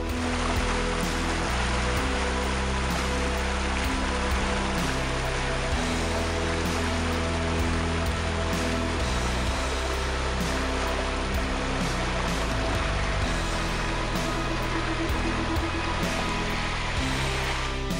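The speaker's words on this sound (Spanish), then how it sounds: "se obtiene una relajación inigualable con el sonido del agua y el aire susurrando entre los árboles" Water flows steadily through a stream in the woods of Santa Catarina, San Luis Potosí, a loud, continuous rushing wash with no break across the whole stretch.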